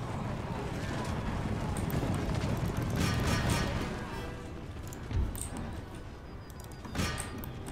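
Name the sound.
cavalry horses galloping in the video game Empire Total War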